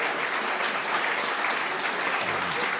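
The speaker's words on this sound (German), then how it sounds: "Es gibt bessere Stellen für einen Applaus." Steady, dense applause from a lecture audience fills the hall continuously, loud and even throughout with no break.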